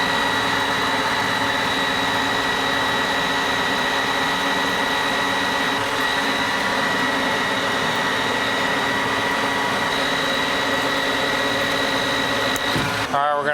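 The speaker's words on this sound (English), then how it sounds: "we're going to machine this down to a specific diameter and length" Manual lathe machining a metal part down to diameter, a constant close whirring hum with steady tonal whine that runs unbroken until a brief clatter at the very end.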